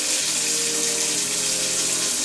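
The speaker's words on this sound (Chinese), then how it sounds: "这个水龙头在使用下方出水的时候，" A household faucet runs steadily while a faulty showerhead above it leaks, making a continuous, close, loud rush of water with no pauses and no talking.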